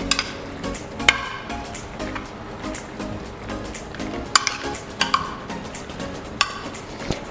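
Pasta getting a quick stir in a pot for broccoli mac and cheese, with soft scraping and sizzling texture broken by a few sharp clinks of utensil on the pot, close and moderately loud, no talking.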